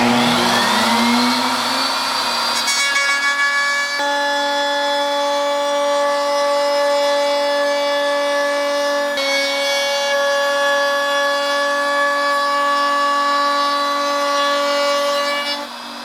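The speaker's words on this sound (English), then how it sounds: "I've got a piece of scrap wood here, and I'm going to soften this hard edge with a round over bit" A wood router spins up with a rising whine, then holds a steady, loud, tonal high-pitched drone while a round-over bit softens the hard edge of a scrap wood piece, running alone before cutting off at the end.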